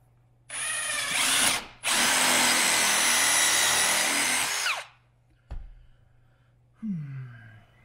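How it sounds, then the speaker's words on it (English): A power drill bores out a plastic rivet holding a bracket during Jeep JL fender disassembly: a short burst, then a loud sustained whir of about three seconds that winds down, followed by a couple of faint clicks and rattles. "So I'm going to drill out this plastic rivet."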